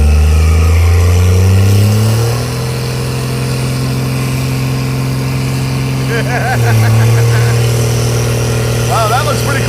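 A Cadillac fitted with a Cummins diesel engine rumbles loudly up close as it pulls away, its deep engine note rising and shifting through gear changes, with people talking over it.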